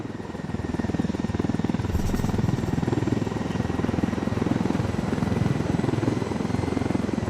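Helicopter in the video game Ghost Recon Wildlands, a loud, steady rhythmic rotor thump with a turbine whine, close and continuous throughout, with no speech over it.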